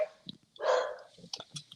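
Dogs barking excitedly indoors at someone arriving home, a short cluster of quick barks and yips heard somewhat distant behind a quiet room.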